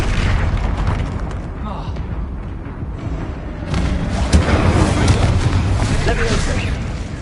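A fiery Incendio spell blast from Hogwarts Legacy gameplay on PS5, booming and dense, with a steady rumbling roar and a stronger surge partway through, loud and sustained across the clip.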